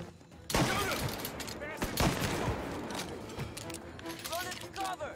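Gunfire in the Mafia video game: a rapid fusillade of shots with sharp cracks and echoing bursts, heard under urgent shouted voices.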